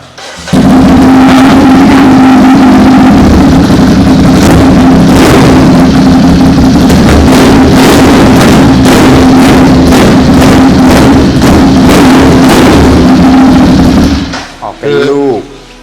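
A Ducati Monster 937 motorcycle runs steadily at close range with a strong, continuous engine note for most of the stretch, then cuts off near the end, followed by a few brief sharp sounds.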